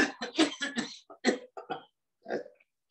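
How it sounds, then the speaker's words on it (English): One person coughs loudly several times in quick succession during a yoga breathing exercise, forceful close bursts followed by quieter throaty sounds and a short trailing exhale. "you cough loudly for 3 to 4 times."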